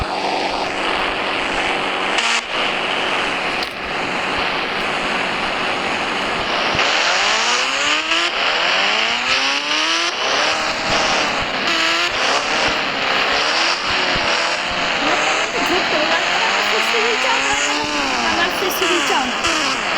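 A motorbike engine in the video game Indian Bike Driving 3D drones continuously, then repeatedly revs up and down in swooping pitch sweeps. It is loud and steady throughout, with a voice speaking now and then.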